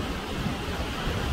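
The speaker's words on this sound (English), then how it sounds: "Here comes a good gust." Steady roaring hurricane wind gust from Hurricane Ian in Sarasota, Florida, a dense broadband rush that stays strong throughout the short moment.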